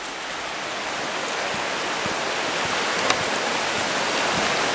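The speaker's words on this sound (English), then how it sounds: "Dropping back down to the river now." River water rushing steadily along a drive, a continuous broadband wash of flowing water with no voices.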